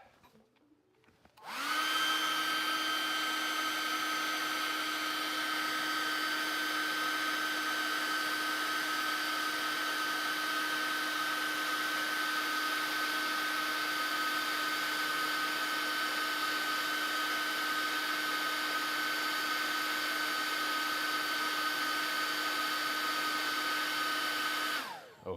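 A hair dryer blowing to dry paint on a painting, switching on after a moment and running at a steady, loud, even whine for over twenty seconds before cutting off at the end.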